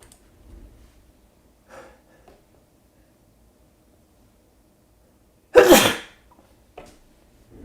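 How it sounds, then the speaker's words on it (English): A single loud, explosive sneeze bursts out alone in a quiet room, with faint breathy sounds before it and a small sniff just after. "sorry, I feel like I'm going to sneeze again."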